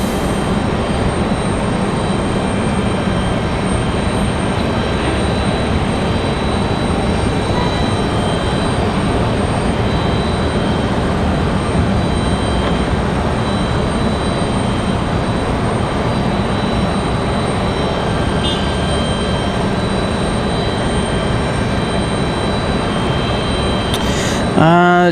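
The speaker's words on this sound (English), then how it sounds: "Off in the distance, as you can see, that is Spirit Airlines NKS 2682 coming in from New Orleans." A Spirit Airlines airliner approaching to land at Raleigh-Durham airport gives a steady, distant jet rumble and whine that persists for the whole stretch, ending in a brief sharp sweep at the very end.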